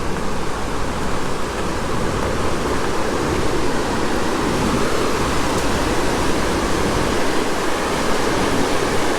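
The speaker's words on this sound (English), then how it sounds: "they let the water out underneath these steel gates" Loud, steady roar of churning water rushing out from under steel dam gates in a constant torrent, broadband and unbroken, with no voices.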